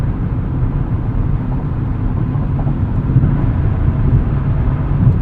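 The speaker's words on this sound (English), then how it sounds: "A little bit of tire noise, but that's about it." A 2023 Nissan Z cruising on the highway at 75 mph around 2,700 RPM, with a steady low rumble of tire and road noise heard from inside the cabin, constant and uninterrupted.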